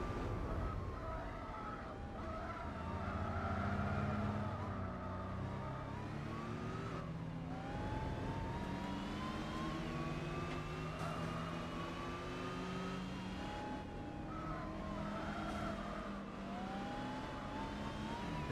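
Race car engines roar in Gran Turismo 4 Spec II, a steady close drone of revving motors rising and falling through gear changes, with several cars layered together throughout.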